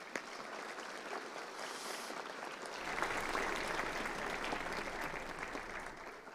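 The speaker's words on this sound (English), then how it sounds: "So a round of applause for parents." An indoor audience at a youth citizenship awards ceremony claps steadily for the parents, a broad, even wash of applause that swells slightly midway and carries on without speech.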